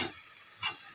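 Onions frying in a pan, a soft continuous sizzle with faint stirring scrapes, quiet and close, no voices.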